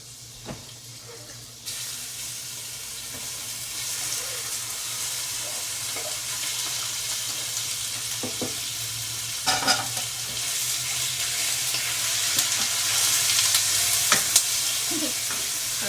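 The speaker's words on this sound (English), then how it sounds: "Back away because it's nice and sizzling and hot." Steady frying sizzle of chicken breast in a hot skillet, a constant crackling hiss with occasional louder pops and spatters, close by and without talk.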